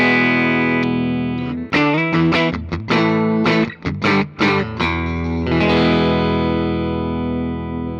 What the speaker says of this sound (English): Adding the distortion, you can definitely hear the unpottedness of the pickups.